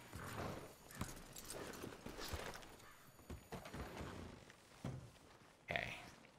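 A horse in Red Dead Redemption II clops its hooves and snorts, with irregular soft thuds and breathy bursts at moderate distance and no talk.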